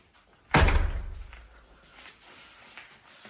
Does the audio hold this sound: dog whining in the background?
no